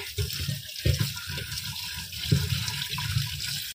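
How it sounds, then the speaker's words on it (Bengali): Prawns are washed under running tap water in a kitchen sink, with a close, steady splashing stream broken by wet handling sounds and brief water-flow changes. "তো চলো মাছগুলোকে ধুয়ে নিই ততক্ষণে।"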